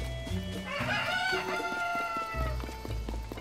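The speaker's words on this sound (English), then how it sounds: "That's a lot of chickens. Why do you have so many chickens?" Chickens cluck and a rooster crows in The Legend of Zelda: Tears of the Kingdom, a loud nearby crow rising over a background of clucking birds in a short burst.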